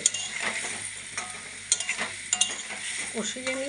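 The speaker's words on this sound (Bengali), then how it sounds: "কড়াইতে ভালোভাবে কষিয়ে নিয়ে" Chicken is stir-fried in a wok, with a soft sizzle under several sharp spatula scrapes and knocks against the pan, heard close up.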